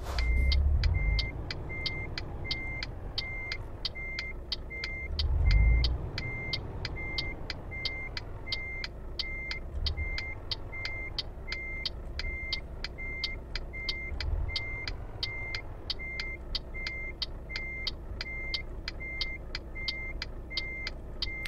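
Truck reversing beeps in Euro Truck Simulator 2, a steady, evenly spaced beeping through the whole stretch over a low engine drone, with a few heavier engine swells as the truck backs up to deliver a load of timber.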